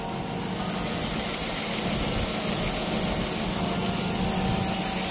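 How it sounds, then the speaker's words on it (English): A Dodge Magnum 5.7 engine runs steadily at idle, with coolant-soaked belts adding a whine over the even, close, continuous mechanical hum. "I know my belts are whining and shit because I got coolant on the belts."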